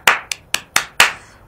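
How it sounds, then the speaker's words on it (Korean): Five crisp hand claps ring out close and loud, evenly spaced in quick succession. "박수!"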